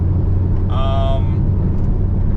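A 2014 Camaro SS with long tube headers, a straight pipe and the stock MBRP 1LE exhaust gives a loud, steady deep rumble close by, with a short higher whine rising over it partway through.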